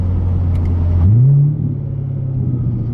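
A straight-piped C7 Corvette burbles at a deep idle, then its exhaust blares as the engine revs up sharply for about half a second before easing back to a steady rumble.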